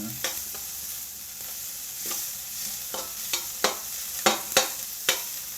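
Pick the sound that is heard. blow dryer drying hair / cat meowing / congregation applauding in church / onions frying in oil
onions frying in oil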